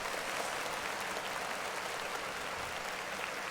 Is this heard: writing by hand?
no